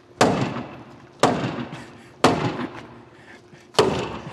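A baseball bat strikes the door of a Tesla Cybertruck four times, each hit a loud, sharp metallic bang followed by a short ringing decay, spaced about a second apart.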